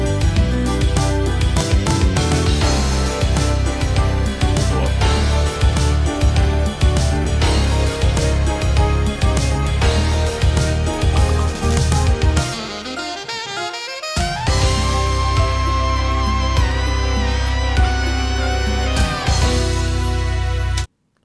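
A city pop track with saxophone lead, from the Paradise Killer soundtrack, moving through a key change a semitone up and then back down: dense full-band music with a short dip before the shifted section resumes, loud and continuous.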